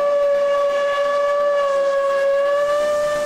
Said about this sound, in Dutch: In een historische spoorparade komen 3 keer per dag de mooiste treinen achter elkaar voorbij.